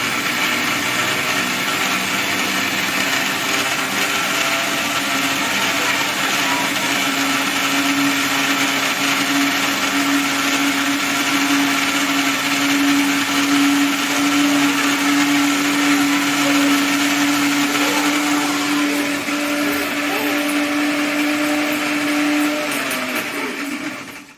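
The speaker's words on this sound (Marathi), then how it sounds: "बारीक करून घ्यायची आपल्याला मिरची बारीक." A kitchen mixer grinder finely grinding chillies, a loud steady whirring motor that runs without a break for over twenty seconds and then cuts off.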